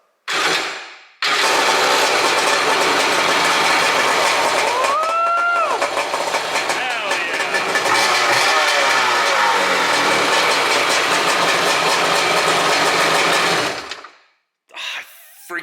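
A Shovelhead engine on a hardtail chopper motorcycle fires up from cold and then runs loud and rough for over ten seconds with rising revs before cutting off abruptly.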